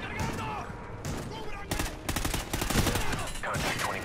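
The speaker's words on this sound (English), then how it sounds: "They have suppressing fire." Bursts of suppressing gunfire in the video game Call of Duty: Ghosts, with dense overlapping shots that swell into rapid volleys in the middle and a loud, continuous battle din throughout.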